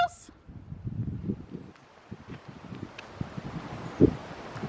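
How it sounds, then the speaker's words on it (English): Gusty wind blows outdoors on a cool, 50-degree day, buffeting the microphone with a low, uneven rumble and faint rustling that rises and falls. "It's 50 and windy."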